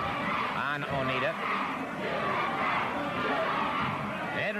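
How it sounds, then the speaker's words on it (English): A Championship Wrestling From Florida arena crowd chants USA in a steady rhythmic roar, heard under a commentator talking over it. "you can hear the crowd shouting USA"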